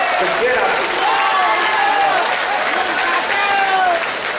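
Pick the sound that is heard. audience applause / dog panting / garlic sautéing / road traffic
audience applause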